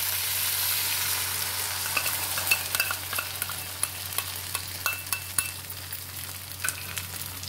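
Cornflour paste stirred into sizzling prawn chilli in a pan, a steady hiss and frying crackle under repeated sharp scrapes and taps of a spoon against the pan.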